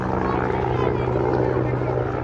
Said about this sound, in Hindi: इधर से हेलीकॉप्टर आ रहे हैं,